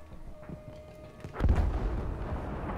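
Quiet background hum, then a sudden deep booming shot from a Japanese rifle rings out and rumbles on, heavy gunfire in a Battlefield V match.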